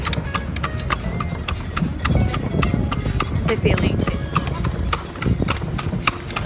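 A white stallion carries riders at a walk, its hooves clip-clopping in a steady, close rhythm throughout while people chat over the hoofbeats.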